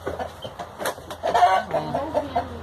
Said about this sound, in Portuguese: E aqui, pessoal, são as galinhas. Isso aqui são galinha caipira